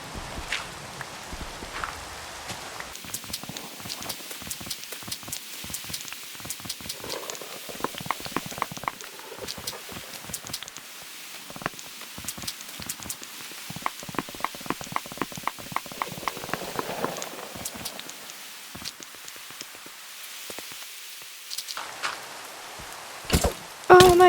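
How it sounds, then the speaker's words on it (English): Rain falls steadily in the video game Minecraft while a player carves out a house in hard mode survival, a soft continuous hiss with scattered pattering taps and occasional louder clicks, with no talking. "Oh, it's just started raining."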